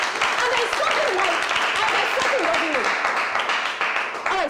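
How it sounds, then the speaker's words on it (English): An audience at a talk-show style discussion claps in a burst of applause, close and fairly loud, with voices mixed in over the clapping. "Come on, you want to clap, clap."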